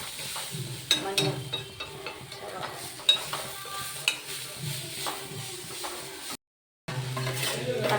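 Tomatoes with turmeric sauté in a pan, with steady sizzling broken by repeated scraping stirs of a spoon against the pan. The sound is close and moderately loud, with a brief gap of silence near the end.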